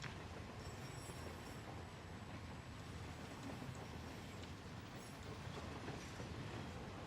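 Steady rumble and rattle of a train ride in the video game Warzone, a continuous loud rolling clatter of wheels on track that holds even throughout with no talk.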